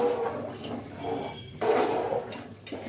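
About 1.5 kg of soaked basmati rice tipped into a pot of water while cooking Afghani chicken biryani gives a steady, fairly close rushing splash that swells into a louder surge midway and then settles.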